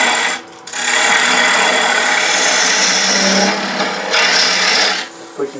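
A woodturning tool hollows a dogwood bowl on a lathe, giving a loud, continuous rasping cut that drops away briefly near the start and again at the end.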